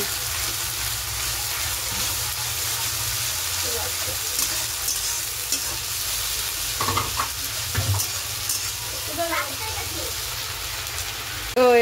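Spices and goat fat sautéing in a pan: a continuous hissing sizzle, close and steady, with occasional scraping stirs and a speaking voice faintly over it.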